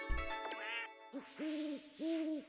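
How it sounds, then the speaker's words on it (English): Owl hooting in a Mario video game: a few soft, rising-and-falling hoots in a short steady series over a faint sustained music tone. "What is making the owl noises in the Mario world?"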